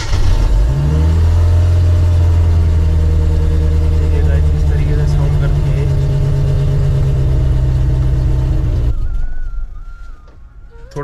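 A Bazooka car's engine, started with the choke pulled after rain, settles into a loud steady idle for several seconds before cutting off abruptly near the end.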